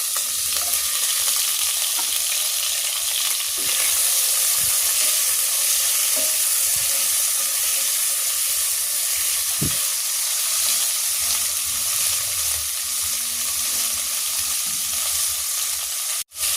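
Tomatoes frying in a pan with onion for salmon sinigang give off a loud, steady, close sizzle with stirring scrapes throughout and no talking.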